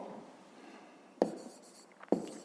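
Pen or chalk writing out a math solution for a fifth-grade cube-edge exercise, faint scratching with two sharper strokes or taps standing out alone.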